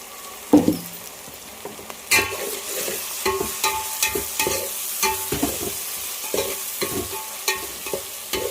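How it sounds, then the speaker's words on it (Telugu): A paste of cashew, ginger, garlic and green chilli fries in a pan while a spoon stirs it repeatedly, giving a steady sizzle broken by sharp scraping clacks, close and fairly loud, with no talking. "పేస్ట్ అనేది బాగా ఫ్రై అంతవరకు అయితే ఫ్రై చేసుకోవాలి."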